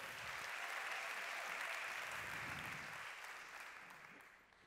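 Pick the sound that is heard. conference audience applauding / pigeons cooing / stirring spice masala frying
conference audience applauding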